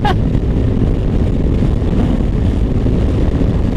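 Strong wind roars steadily across the microphone while riding an Easyride 150N motorcycle on the highway, a constant loud buffeting rumble with no pauses.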